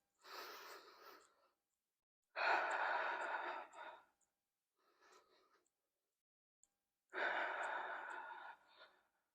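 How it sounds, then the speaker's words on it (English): Slow Pilates Hundred breathing, close and clear with no talking: three long, forceful breath bursts separated by pauses, plus one softer, shorter breath in between. "so that's the basic breathing pattern there"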